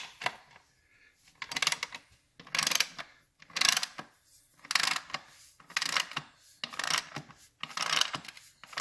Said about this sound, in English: There's only one bolt to tighten.